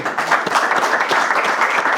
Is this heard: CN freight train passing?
no